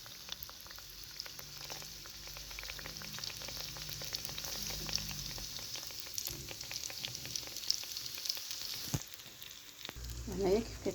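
Beignet dough frying in hot oil in a home kitchen, a steady crackling sizzle with fine popping bubbles, close and continuous, with a brief clatter near the end.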